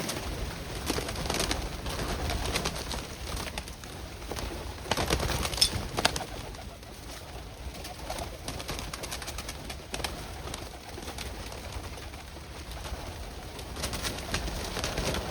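A large flock of pigeons cooing and fluttering all around, with bursts of wing flaps and a dense, continuous murmur of birds nearby.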